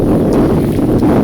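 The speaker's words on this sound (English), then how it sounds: "It's too windy here." Strong wind roaring over the microphone while kayaking in the Florida Keys, a loud, steady, rumbling buffeting with no other sound.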